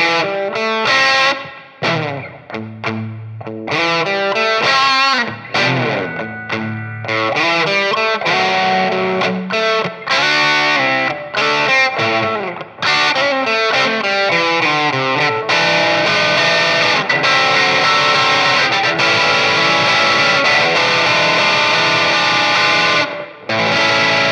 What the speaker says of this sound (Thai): ลองไปฟังว่าเซเลคเตอร์5แก๊กนี้นะครับทำงานร่วมกับ Pickup Infinity R ทั้งฮัมบักเกอร์2ตัวนี้จะเป็นยังไงบ้างนะครับ